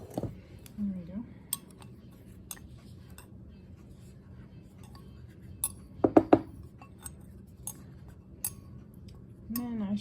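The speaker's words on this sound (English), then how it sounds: "I'm gonna wipe it all into my bowl" A spatula scraping food into a bowl in a home kitchen, heard as sparse, close taps and clinks against the dish, with a brief cluster of sharper knocks midway and a quiet room background.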